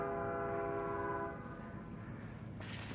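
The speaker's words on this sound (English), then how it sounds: "It's kind of cool being up here and hearing that damn Norfolk Southern over there." A distant Norfolk Southern freight train sounds its horn, a long faint tonal blast that fades into low rumbling rail noise heard from an elevated spot.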